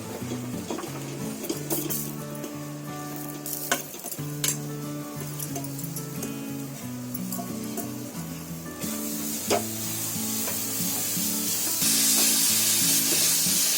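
Grated coconut is tipped into melted jaggery in a pan and stirred, with close clinks of a spoon against metal over a low sizzle that grows a little louder toward the end; nobody speaks.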